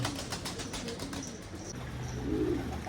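Pigeons coo softly inside a coop, a few low murmuring calls rising and falling close by, with faint rustling and no talk.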